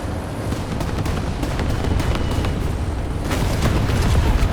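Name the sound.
bomb explosion in War Thunder video game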